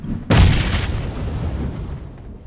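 A grenade explosion in PUBG Mobile, one loud, close boom striking suddenly and trailing off into a rumbling decay over about two seconds.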